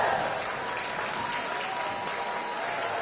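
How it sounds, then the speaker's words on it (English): At a Central European University graduation ceremony for the class of 2023, a large audience applauds in a steady, dense wash of clapping that holds evenly for a few seconds. "join me in applauding the new members of the Central European University class of 2023"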